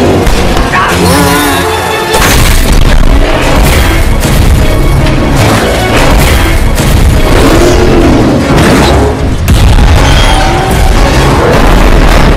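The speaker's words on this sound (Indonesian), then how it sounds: "lalu terjadilah ledakan" A loud explosion booms among heavy crashing and rumbling, with dense, chaotic impacts that continue throughout.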